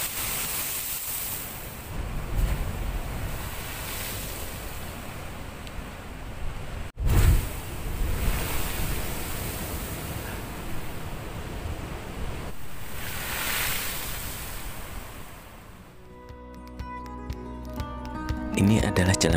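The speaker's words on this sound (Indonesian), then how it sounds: "kita akan melihat deburan ombak yang cukup kuat yang menerpa tebing pantai" Strong ocean waves crash against the coastal cliffs at Devil's Tears on Nusa Lembongan, Bali, as broad surges of surf roar in repeated swells, with wind noise and a brief thump partway through.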